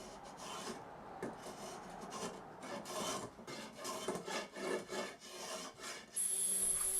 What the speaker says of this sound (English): finish any final shaping with a spoke shave